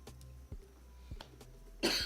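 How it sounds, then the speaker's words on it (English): A single short cough bursts out near the end after a few faint knocks and rustles in a quiet room. "Seems to be coming down with a cough or something."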